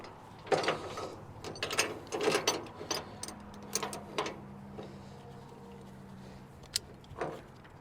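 A ratchet tie-down strap being cranked tight to secure an ASV compact track loader on a trailer, heard as bursts of clicking ratchet strokes spaced irregularly, fairly close, with quieter pauses between pulls.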